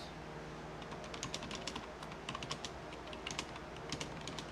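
A password is typed on a computer keyboard: quick, close clusters of light key clicks in uneven runs over a faint steady background hiss, with no voices.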